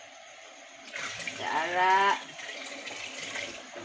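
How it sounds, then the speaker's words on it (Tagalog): Water running from a tap into a container while cleaning a bathroom, a rising gurgling fill that swells then drops to a softer flow, with a brief spoken word. "Nagsalod kog tubig guys para di ani guys oh."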